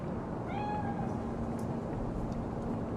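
A single cat meows in the video game Cyberpunk, a clear rising-falling cry heard once near the start over a steady low background hum.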